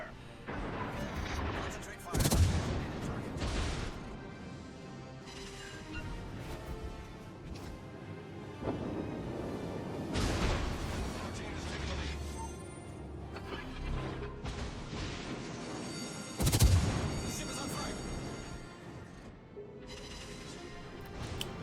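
Naval gunfire in World of Warships as an enemy cruiser fires high-explosive shells: heavy booms and crashing impacts recur across the stretch, the loudest bursts near the start and late on, over a constant rumbling game soundscape.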